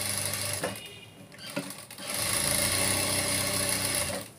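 A sewing machine stitches a boat neck blouse with anchor thread, running in short bursts at first, then settling into a steady, close mechanical whirr for the second half.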